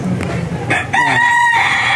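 A fancier's gamefowl chicken crows once, loud and close, with a rising, sustained call that fades into light background noise.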